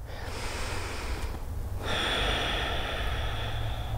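Deep, slow breathing during a yoga flow, heard as long airy breaths up close, one long exhale followed by a fuller, louder inhale or exhale with no talking.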